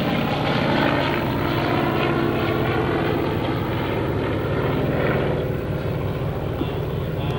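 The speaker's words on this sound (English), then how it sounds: "That beautiful F4U Corsair, managing the power, managing the speed, making it all look so easy." A WWII Grumman Hellcat or F4U Corsair fighter flies past at a World War II weekend air show. Its propeller engine gives a loud, sustained droning roar that stays steady throughout.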